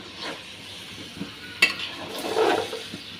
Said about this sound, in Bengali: বেগুন আর আলু একসাথে কষিয়ে নেব